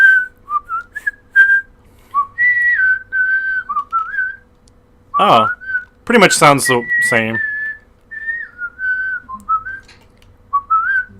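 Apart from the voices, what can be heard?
person whistling by sucking air in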